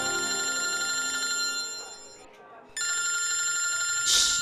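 A telephone rings indoors in a domestic TV drama scene, steady tonal ringing with a short gap midway, over a faint background music bed.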